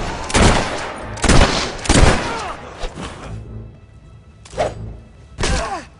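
Gunfire in a dramatic scene: a series of loud, close bursts and shots, about six separated blasts with short gaps and ringing tails, voices faint between them.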